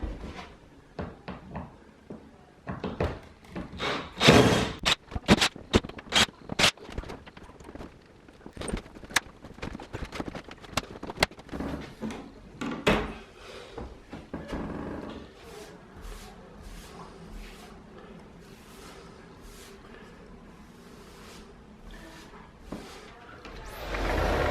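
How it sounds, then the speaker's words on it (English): An interior door is taken off its frame during an office renovation, giving a burst of close knocks, clunks and wooden bumps early on, then quieter scraping and handling noises with a low hum behind. "So we're going to remove that door right now"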